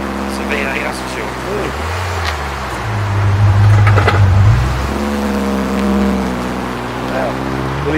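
A V8 car engine rumbles steadily and swells into a brief rev at an outdoor vintage and classic vehicle gathering, with people talking over it throughout.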